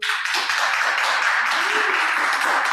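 Audience applause at a live street-interview style event, dense continuous clapping from a crowd lasting throughout, with some voices mixed in.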